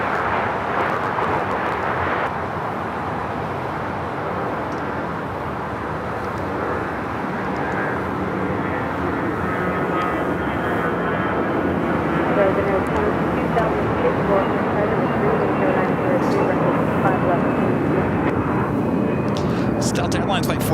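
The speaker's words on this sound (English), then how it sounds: "Delta Airlines Flight 1434 heading to Salt Lake City in this old Northwest A320 delivered in May of 1992." A Delta Airlines Airbus A320, an ex-Northwest jet delivered in 1992, roaring at LAX airport: a loud, continuous, broadband jet engine rush that holds steady for the whole stretch, with talk mixed in over it.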